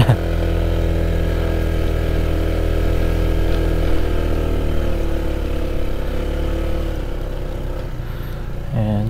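Motorcycle engine idling close by, a steady low rumbling hum with strong even harmonics for most of the clip, then a brief rising rev near the end.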